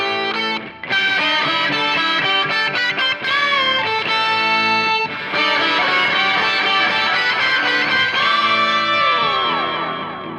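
Heavily distorted electric guitar through a Pigtone English Man Distortion pedal plays sustained harmonized lead lines, loud and dense, with brief dips before the tones swell back in.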